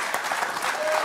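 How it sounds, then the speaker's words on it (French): Brief burst of studio audience applause on a French talk show, dense clapping with a voice briefly heard over it. "s'il vous plaît, applaudissez."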